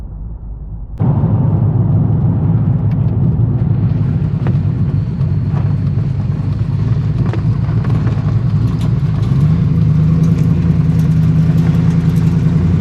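A car with a swapped 5.3 V8 breathing through a Summit Racing muffler starts up abruptly, then holds a loud, close, rumbling idle and rev, rising in pitch toward the end, with no one talking.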